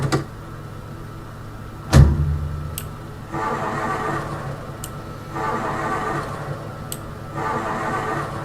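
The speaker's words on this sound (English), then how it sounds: "I've never had a car with such a healthy engine not start so much." Car engine repeatedly failing to start in Project Zomboid, with a sharp clunk followed by several bursts of cranking from the starter that never catch, with brief clicks between attempts and no voices.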